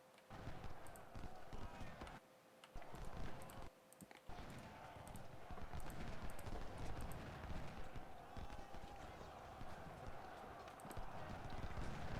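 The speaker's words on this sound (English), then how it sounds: "that's a lot of horses" Many horses gallop in the video game Ultimate General: Civil War, a dense, continuous clatter of hooves with brief dropouts and short gaps in the din.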